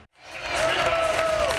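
Stadium crowd at DKR Texas Memorial Stadium cheering after a touchdown at a Texas versus Arkansas college football game, a broad roar swelling up after a brief gap and holding loud.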